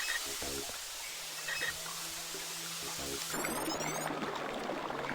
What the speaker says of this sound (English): I hear the water flow